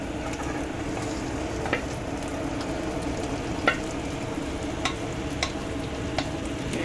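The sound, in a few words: chicken being fried in oil for chicken kosha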